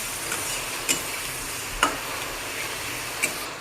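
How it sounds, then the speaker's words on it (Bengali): Spice mixture with sugar being stirred and fried in a pan for an egg and potato curry, a steady low sizzle with a few sharp spoon taps against the pan at intervals. "এবার এতে খানিকটা চিনি দিয়ে নিলাম, ভালো করে কষাচ্ছি।"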